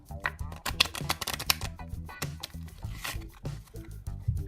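Cards are riffled and shuffled in rapid fluttering bursts, close and fairly loud, with continuous papery snapping throughout.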